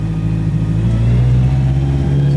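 A Toyota AE86 engine hums steadily on its first drive, a loud close drone from inside the car with its pitch creeping upward as it accelerates.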